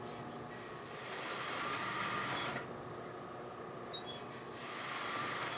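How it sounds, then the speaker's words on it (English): A sewing machine stitches the face fabric and lining of a lined bedskirt together along the hem crease, giving a quiet, steady mechanical whir that runs in two stretches with a short pause between them. "you sew all the way across in that crease"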